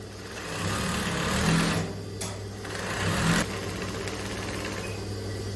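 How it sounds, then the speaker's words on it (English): Sewing machine stitching a straight gathering line on skirt fabric, a close, steady mechanical hum with two short breaks and light clicks in between. "you just start sewing straight down"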